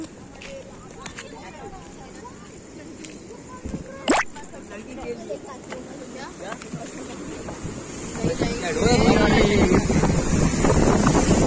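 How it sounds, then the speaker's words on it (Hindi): Strong wind buffets the microphone at a seashore while waves surge and break, building louder toward the end, with people talking over the roar. "तेज़ लहरें हैं आज, आज हवा भी बहुत तेज़ चल रही है"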